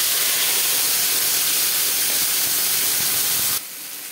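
A bay leaf and a ground paste of tomato, onion and green chilli hit hot oil for a potato curry, giving a loud, steady, close hiss that drops off abruptly near the end.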